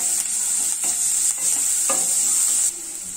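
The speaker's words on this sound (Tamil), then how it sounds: "நல்லா வதக்கி விடுவோம்" Onions sautéing in a pan give a loud, steady sizzle, broken by several scraping stirs and a slight drop in level near the end, with no voices.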